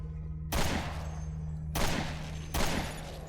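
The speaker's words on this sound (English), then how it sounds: "we can snipe all of them with the assault rifle" Assault rifle fire in the PC game Resident Evil Revelations 2 comes as three separate loud bursts of shots, each with a sharp attack and a booming tail, spaced roughly a second apart over a low background hum.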